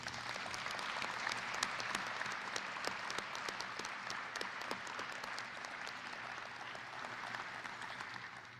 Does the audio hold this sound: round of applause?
yes